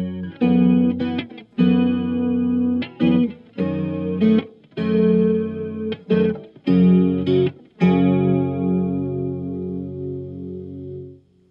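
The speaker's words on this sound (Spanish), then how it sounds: "Ahora vamos a uno de los presets que más me gusta, que es con un poco lento el chorus, los tonos a tope y un poquito más de profundidad." An electric guitar plays through an MXR 234 Analog Chorus pedal set to a slow chorus with the tone controls maxed and a bit more depth. Several shimmering chords and notes ring out loud and close, and the final chord sustains and fades.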